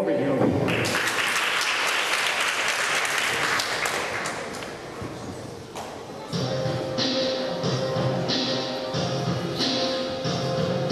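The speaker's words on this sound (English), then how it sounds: "Give them a ring of applause." An audience at a school open mic applauds the singers with sustained clapping for about six seconds, then music begins.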